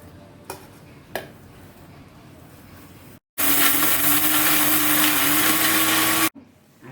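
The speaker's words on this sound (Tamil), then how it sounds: "இது எல்லாத்தையும் மிக்சியில் ஆறின உடனே மிக்சியில் போட்டு அரைச்சி உங்களுக்கு காட்டுதேன்" A mixer grinder whirs loudly for about three seconds, grinding roasted sesame into Thirunelveli ellu thuvaiyal, starting and stopping abruptly. Quieter stretches before and after hold a couple of sharp knocks.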